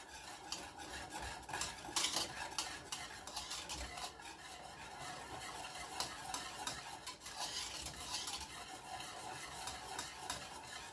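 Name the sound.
whisking dandelion jelly mixture in a pot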